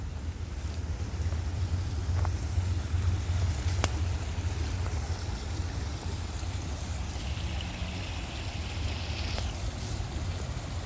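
A creek runs through old woods after rain, carrying debris, a steady soft rush of flowing water with low rumbling wind noise on the microphone and no voices.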